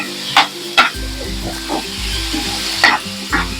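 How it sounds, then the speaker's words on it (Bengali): Masala and fried pointed gourd sauté in hot oil, a close sizzle broken by several quick scrapes and stirs of a spatula in the pan. "দিয়ে আমি এবারে খুব ভালো করে কষিয়ে নেব"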